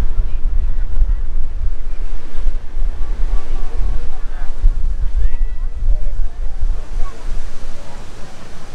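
Waves washing onto Bang Saen beach at low tide amid heavy wind buffeting, with deep rumbling gusts throughout and no clear voices.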